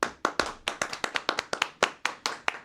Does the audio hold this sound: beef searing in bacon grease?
no